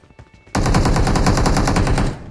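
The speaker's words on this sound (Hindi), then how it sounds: "इधर बहुत सारे फायर आ रहे थे" Loud automatic gunfire rattles in a fast, continuous burst during a battle royale video game. The shots start after a short pause, run for about a second and a half, then stop abruptly.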